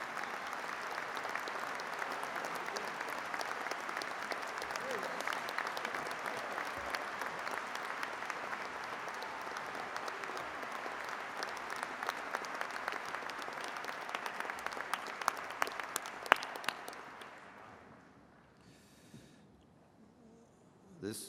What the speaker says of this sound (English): you started applauding so fast I couldn't finish